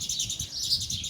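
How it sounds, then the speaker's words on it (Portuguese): Two small birds chirping in a mandarin tree, a steady run of bright, rapid tweets close by with no talking over them. "tem 2 passarinhos na mexeriqueira"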